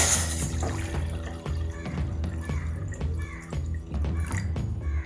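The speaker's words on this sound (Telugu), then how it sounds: "2 లోటాల నీళ్ళని వేసుకోవాలి." About two small vessels of water are poured into a cooking pot on a stove for a ginger pickle. There is a steady, moderately loud splashing and dripping over a low background hum.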